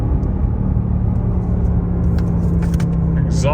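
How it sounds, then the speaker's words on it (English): A 2024 Ford Mustang Dark Horse accelerating, its exhaust a loud, steady low rumble heard from inside the car with a continuous engine drone throughout. "Exhaust sounds badass."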